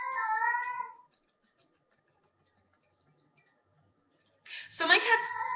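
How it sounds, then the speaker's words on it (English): A pregnant house cat meows loudly and close by: one drawn-out call, a few seconds of silence, then a second rising meow. "so my cat is pregnant, and she's making it very well known to everybody"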